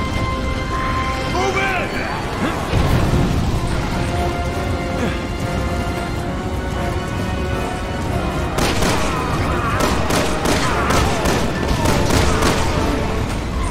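Rapid gunfire bursts in Resident Evil 6 during a frantic escape from a collapsing area, loud and repeated across the stretch, heaviest toward the end, mixed with game noise and voices talking.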